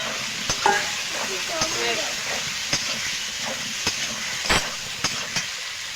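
Potatoes tipped into frying ginger spice paste sizzle with a steady hiss, a clatter as they drop in, then occasional stirring scrapes at close range.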